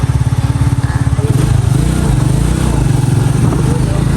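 A motorcycle engine runs on a road in Albay, Bicol, after the bike breaks down with tire trouble, a loud, close, steady chugging idle with rapid regular pulses throughout.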